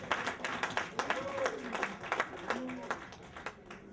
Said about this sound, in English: Don't you be quick to clap your hands.